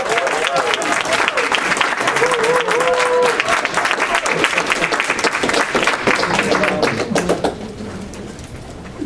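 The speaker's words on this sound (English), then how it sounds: "And let's give a round of applause for Charles Isaiah Morgan." An audience claps loudly for a CEO and founder introduced at a United Success Network event, dense steady applause lasting several seconds before thinning out, with a few voices mixed in.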